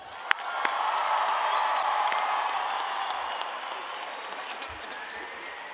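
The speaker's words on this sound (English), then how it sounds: "I think that deserves a round of applause" Graduation audience at Cypress Falls High School breaks into sustained applause with cheering and whoops, a dense crowd roar rising quickly, holding steady, then slowly thinning.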